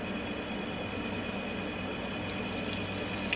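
Beef broth is poured over vegetables, giving a steady, continuous liquid splash and trickle that stays at an even level throughout, close and fairly loud with no talking.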